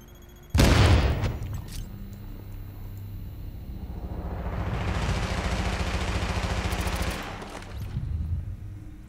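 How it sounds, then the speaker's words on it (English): A grenade blast in The Division goes off loud and close, a sharp boom followed by a long, rumbling roar of debris and fire that swells before fading, with gunfire-like crackle underneath. "So I'm going to nade myself."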